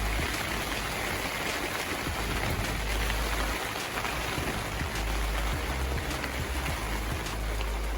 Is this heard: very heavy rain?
yes